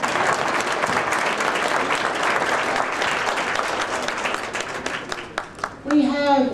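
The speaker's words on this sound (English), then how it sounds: "So let us please stand and applaud the Tuskegee Airmen." An audience stands and applauds the Tuskegee Airmen at a movie premiere, dense loud clapping that holds for several seconds before tapering off, with a few cheers and voices at the end.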